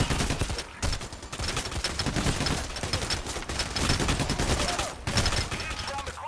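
Rapid gunfire rattles through a heist shootout in Payday: The Heist, bursts of automatic fire packed closely together with brief gaps, loud and continuous across the stretch with game noise beneath.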